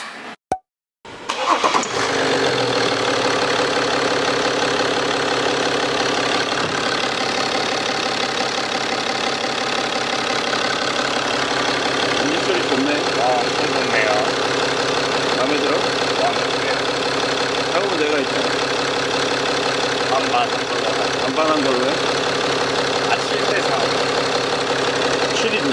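A BMW F25 X3 30d diesel engine with a timing chain fault starts up and then runs steadily, a loud continuous mechanical drone with rattling and knocking textures carrying close and alone for the rest of the stretch.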